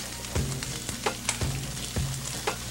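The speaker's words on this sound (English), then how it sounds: "We're frying the fried green tomatoes." Green tomatoes fry in a pan with a constant crackling sizzle, broken by several sharp scrapes and knocks as they are stirred or turned.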